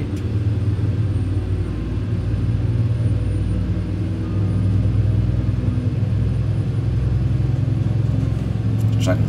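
Loud, continuous low rumble of a Freightliner Argosy truck engine in Euro Truck Simulator 2, steady throughout with a higher burst near the end.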